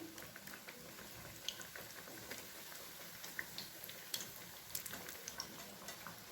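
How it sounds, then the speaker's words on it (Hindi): Maggi-based snacks deep-fry in oil over a medium gas flame, giving a soft, steady bubbling sizzle with scattered small crackles and pops, faint and without talk. "इन्हें तेल में डालने के बाद हम गैस की आंच मीडियम कर लेंगे और मीडियम फ्लेम पर ही हम इन्हें फ्राई करेंगे।"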